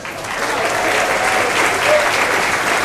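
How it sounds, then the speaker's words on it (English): A cruise ship audience on the Star Princess gives loud, sustained applause as the ship's captain is brought on, an even, dense wash of clapping that fills the room without a break. "So now I hope you'll bring him on with a huge round of applause, the Master of the Star Princess, Captain Ed"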